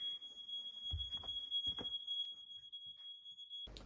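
Fire alarm going off inside a cabin, a continuous high-pitched electronic tone held steadily at moderate distance, with faint rustling and handling noises underneath before it cuts off.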